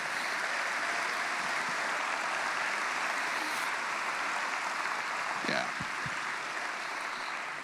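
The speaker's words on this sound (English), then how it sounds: "So could we give a round of applause to the people who are here with bad marriages?" Steady round of applause from an audience at a live Christian comedy show, a continuous wash of clapping heard at moderate distance, with a few brief knocks or voices near the end.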